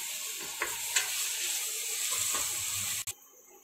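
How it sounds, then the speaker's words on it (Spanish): Chopped onion and garlic fry in a pan with a steady, bright sizzle, punctuated by a few scraping stirs of a spoon, close and fairly quiet, with no talk, before cutting off abruptly. "Seguimos moviendo nuestra cebollita con el ajo, que se vaya cocinando, que se dore"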